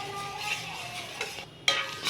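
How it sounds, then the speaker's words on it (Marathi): Sugar syrup heats on a gas stove while a spoon stirs it, giving a soft, steady scraping and bubbling hiss at close range with no talk. "साखर वितळेस तोपर्यंत गॅसवर गरम करायचं आहे"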